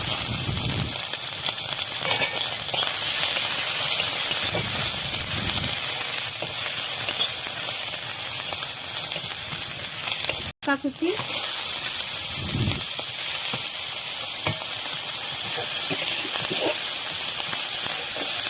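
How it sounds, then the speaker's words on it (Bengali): Cumin seeds and chopped ginger sizzle steadily in hot oil, a continuous bright frying hiss with stirring clatter, briefly broken by a sharp knock near the middle, with no talking. "তেলে একটু জিরা দিয়ে দেবো বন্ধুরা জিরা দিয়ে দিয়েছি এর মধ্যে দিব একটু আদা কুচি"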